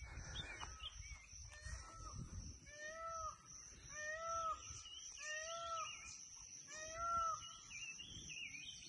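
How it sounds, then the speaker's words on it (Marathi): A peacock near a farmhouse in the countryside at Bhor gives a series of four or five loud, nasal calls in a steady rhythm, heard outdoors over faint background noise. "अतिशय सुंदर मोराचा आवाज आला त्यामुळे मी थांबलो"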